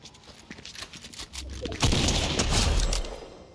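A gunshot in Fortnite booms out loud and close after a stretch of lighter crackling, leaving a rumbling tail that fades over the following second.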